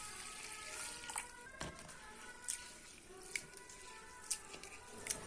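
Rice and chana dal are washed in water in a kitchen, with soft swishing, splashing and dripping that stay faint and continuous and include a few brief sharper splashes, with no voices.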